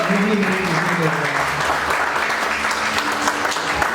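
An audience claps at an open mic poetry event. The applause is sustained and moderately loud, and a voice speaks briefly beneath it near the start.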